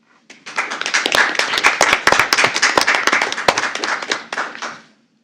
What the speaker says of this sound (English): How about a big round of applause for our school board?